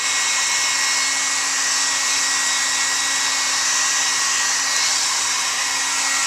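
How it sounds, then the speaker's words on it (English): A heat gun blows steadily on a latex human-pelt skin prop, a close, constant airy roar with a steady motor hum and no pauses. "And you're just hitting it with the heat gun, stretching it."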